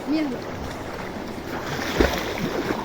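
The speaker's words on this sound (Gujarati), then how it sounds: "એ જોરથી કોણ પાણી ઉડાડે?" Water splashes in a natural outdoor swimming pool, with a sharper splash burst near the end over a steady wash of water and faint background voices.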